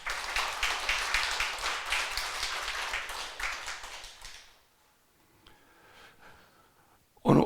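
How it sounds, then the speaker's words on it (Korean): A church congregation applauds at a thanksgiving worship service marking a church's 23rd anniversary, a dense wash of many hands clapping for about four and a half seconds before it fades into quiet room murmur. "박수하세요."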